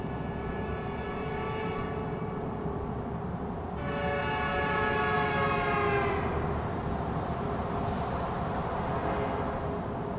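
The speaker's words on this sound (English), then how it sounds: "You hear that Doppler effect of the train horn?" In American Truck Simulator, a train horn sounds in long blasts as a train rolls past, the pitch dropping with the Doppler effect as it goes by, over steady rumbling rail noise.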